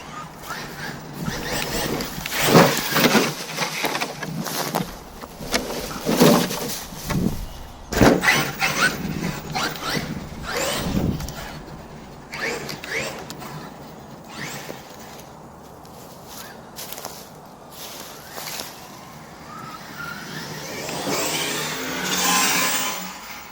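A HoBao Hyper MT+2 RC truck rips around a cramped backyard track, giving uneven bursts of electric motor whine and crunching dirt, loud and close, easing off in the middle before surging again.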